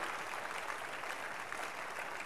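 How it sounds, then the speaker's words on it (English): Church congregation clapping in sustained, dense applause, a continuous bright patter at even loudness throughout with no voices standing out. "Keep clapping."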